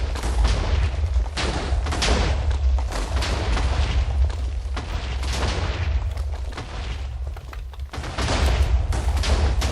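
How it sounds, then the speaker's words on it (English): Explosions in a video game as a bomb shelter is blown up, heard as a dense, continuous barrage of booms and blasts that keep overlapping, loud and rumbling throughout. "The side exploded! The bomb shelter's gone!"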